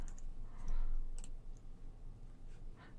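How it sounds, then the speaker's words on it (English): Light clicking of a computer keyboard as a search term is typed into a pfSense firewall package filter, faint scattered taps over a quiet hum with no voices. "So we'll just type in DNS."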